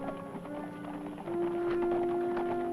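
Hoofbeats of approaching horses in a Western TV episode, a quiet clip-clop rhythm that grows louder partway through, with a sustained musical tone underneath and no talk.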